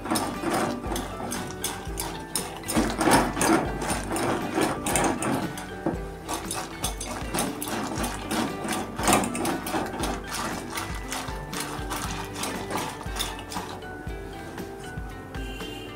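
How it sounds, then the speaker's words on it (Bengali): Cooked lentils seasoned with salt and turmeric are churned smooth with a dal masher, making a fast, continuous rhythmic clatter of strokes, close and steady for the whole stretch, with no voices. "একটি ডাল কাটার সাহায্যে আমি এখন ডালটাকে কাটা দিয়ে নেব, যাতে একদম মিহি হয়ে যায়।"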